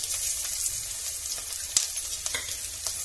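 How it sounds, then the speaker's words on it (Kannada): Onions, dried red chillies, curry leaves and salt frying in a pan for buttermilk sambar, a close steady sizzle with occasional stirring scrapes and spoon taps, no talking. "ಈರುಳ್ಳಿ ಎಲ್ಲ ಚೆನ್ನಾಗಿ ಫ್ರೈ ಆಗಿದೆ"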